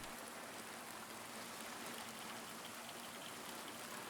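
Steady, broadband rain in the Silent Hill 2 Remake, falling around James as a continuous hiss with fine pattering texture, even and unbroken throughout, no voices.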